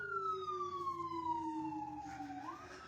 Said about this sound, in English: It's an everyday occurrence here that we hear the sirens going by.